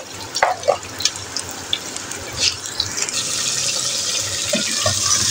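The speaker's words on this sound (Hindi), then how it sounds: "ये जो है टिंडे, इनको मैंने तेज़ आंच पे फ्राई करना है।" Pieces of tinda (apple gourd) frying in oil on high heat with a little salt, a few sharp splashes and stirring knocks at first, then a steady, close sizzle building and holding.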